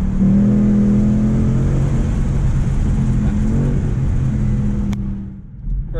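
A 2019 Ford Mustang GT with the PP1 package accelerates on a road test ride, its V8 engine a steady, loud, low drone heard from inside, easing off near the end, with no one talking.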